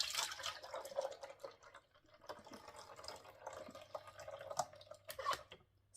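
Pineapple juice trickling from a Nama juicer into a container, a faint, steady patter of drips and small splashes close by with no voices.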